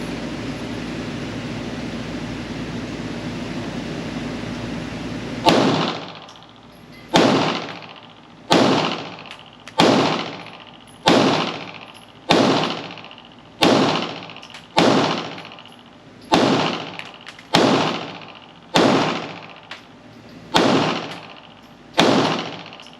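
A Steyr Arms L9-A2 rifle with triangular sights fires about thirteen sharp, loud shots at a slow, even pace after a few seconds of hiss, each crack followed by a short decaying echo.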